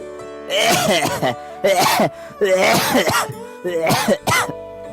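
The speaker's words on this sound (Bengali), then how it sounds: "বটগাছের নিচ থেকে একজন ভিক্ষুকের কাশির শব্দ ভেসে আসে" A beggar coughing and clearing his throat under a banyan tree: several loud, close, rasping coughing fits in separate bursts with short pauses between them.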